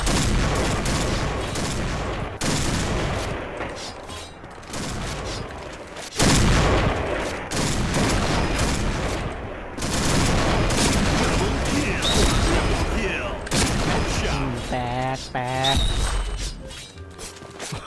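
Rapid sniper rifle gunfire and explosions in the Point Blank shooter game, loud repeated sharp shots with crashes and busy battle noise throughout.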